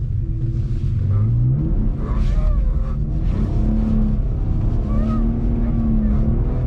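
A BMW E46 drifting through a figure eight in snow revs hard, its engine note climbing and dropping in repeated sweeps, loud and close from inside the car.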